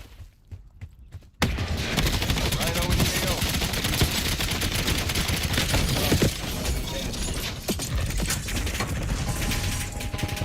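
Sustained loud automatic gunfire in Call of Duty, a weapon hip-fired into the ground in a continuous rattling stream after a short quiet moment, with overlapping clatter throughout.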